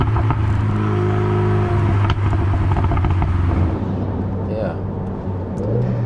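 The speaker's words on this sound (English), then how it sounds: "That's a lovely nice little burble." A 2012 Renault Megane RS265's engine burbles steadily while cruising, a low droning rumble heard from inside the car, with people talking over it throughout.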